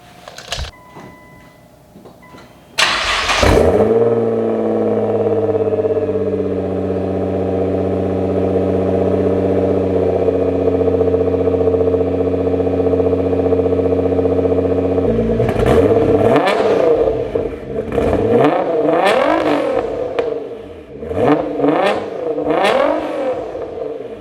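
Nissan GT-R with an HKS Legamax exhaust, heard close: the engine starts, settles into a steady idle, then gets several sharp revs that rise and fall, loud with no talk.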